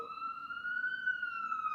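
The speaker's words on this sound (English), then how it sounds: "Sorry for the ambulance." A distant ambulance siren wails in a steady, slowly gliding tone, fairly faint, with no talking over it.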